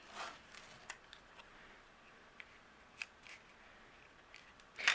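Scissors snip paper for a handmade card in a quiet room, giving a few faint, sparse crisp cuts with short pauses between them.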